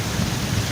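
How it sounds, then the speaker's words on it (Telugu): Heavy morning monsoon rain near Badlapur, Mumbai, roars as a dense, steady wash of noise throughout, close and loud with no talk. "बारिश बहुत तेज आ रही है"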